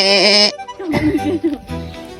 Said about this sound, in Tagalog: Ayan ang kambing.